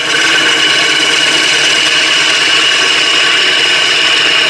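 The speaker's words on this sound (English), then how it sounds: "just to show you with the spindle gouge" A spindle gouge cuts into a wooden bowl spinning on a lathe, a loud, steady hissing scrape that holds evenly throughout without pause or voices.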